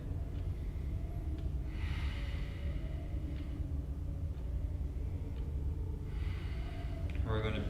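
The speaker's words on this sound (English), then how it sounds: "Couple breaths here." Slow, deep breathing held in a standing yoga pose, heard as two long, soft, airy exhales against a steady low room rumble.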